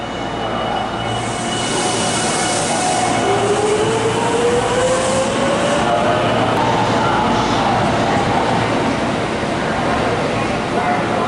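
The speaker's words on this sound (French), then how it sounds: "Et ça, c'est les trains de banlieue alors." A suburban commuter train in a Japanese station rumbles steadily and loudly throughout, with a rising wheel whine partway through and voices talking faintly underneath.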